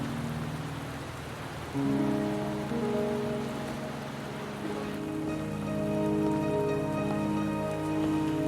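Rain falling in the video game Wuthering Waves, a soft steady patter under sustained tonal music notes, fairly quiet, no speech.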